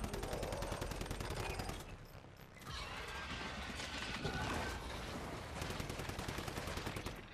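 Rapid automatic gunfire in the video game Once Human sounds as dense, close bursts of shots, with a brief lull in the middle before the firing picks up again.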